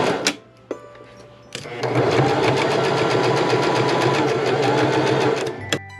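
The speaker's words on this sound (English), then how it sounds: "Then I machine stitched the entire hem, ½ inch from the edge." Sewing machine stitching the hem of a flannel tartan circle skirt: after a short start and a pause, a steady, loud, close mechanical whirr runs continuously for several seconds, then stops abruptly.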